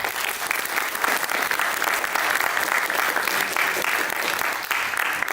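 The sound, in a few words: applause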